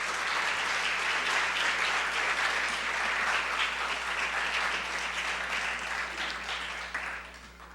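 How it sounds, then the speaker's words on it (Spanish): Sustained audience applause fills a conference hall as a talk by an architect begins at a preparatory school, dense and steady throughout before tapering slightly at the end. "Brindamos un fuerte aplauso para el inicio de esta conferencia"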